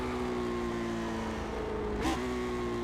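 A race car engine in the iRacing video game drones at steady revs, then gives one short, sharp throttle blip during a downshift from third to second gear, a quick rising-and-falling rev burst heard close and alone.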